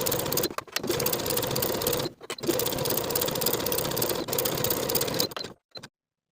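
A sewing machine runs fast and close, stitching a knit dress seam in sustained whirring runs broken by several brief stops, then falls silent at the end.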